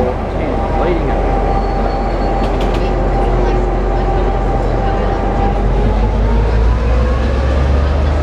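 A diesel passenger train in Brisbane rumbles steadily with a deep engine drone, faint squealing tones rising and falling above it, loud and close throughout.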